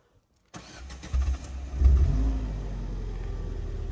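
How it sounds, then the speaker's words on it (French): A Ford Cougar 2.0i 16v coupe starts up after a moment of silence: a brief cranking whir, the engine catching with a rising rev, then settling into a steady, low idle rumble up close. "On va passer au démarrage de cette voiture."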